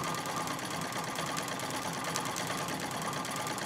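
A Singer 66 treadle sewing machine runs steadily during free motion quilting, its needle producing a fast, even mechanical chatter with a light whirring hum, close and continuous.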